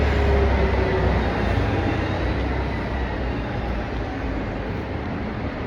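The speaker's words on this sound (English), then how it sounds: "watch the train come." A loud, steady rumble of an arriving train rolling close by, broadband rushing and clattering that slowly eases slightly, with no voices.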